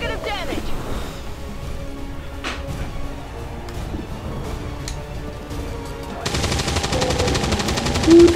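Gunfire from XCOM 2: War of the Chosen, a few sharp shots scattered over ongoing game sound and background noise, followed by a louder dense burst near the end, with people talking throughout.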